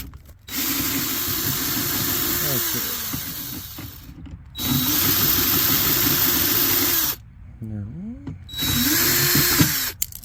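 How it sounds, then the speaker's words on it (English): An old power drill runs in several sustained whirring bursts with pauses between, its motor pitch dipping and rising as the chuck is tightened, close and fairly loud, with a brief spoken comment near the end. "Tighten the chuck back up on my old drill here"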